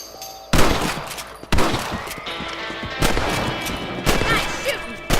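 Rifle gunfire in the Western video game Red Dead Redemption on Xbox One, fired at small thieving varmints: five or six sharp, loud shots spaced about a second apart, each trailing off into a ringing echo.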